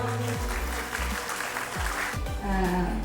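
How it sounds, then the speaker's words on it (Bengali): An audience at an academy's annual day show claps in sustained, dense applause, with some tonal sound and voices faintly underneath. "একটু হাততালি হয়ে যাক।"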